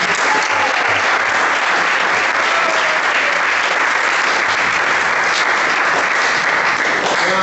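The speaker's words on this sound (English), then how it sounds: "I'd like a big round of applause for these devotees" A large audience applauds devotees at a Vyas Puja offering ceremony, with loud, steady, dense clapping that fills the whole stretch without a break.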